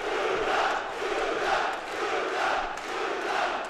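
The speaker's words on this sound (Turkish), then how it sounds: "Tribünlerde Fırat Fırat sesleri değerli izleyiciler." A crowd in the stands at a boxing match chants the name Fırat in a steady rhythmic swell, loud and continuous, roughly one rise and fall every second.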